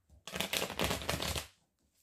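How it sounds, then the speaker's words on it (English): A deck of tarot cards is riffled once in a single dense papery burst of about a second, close and crisp, with no voice over it. "Let's shuffle one more time."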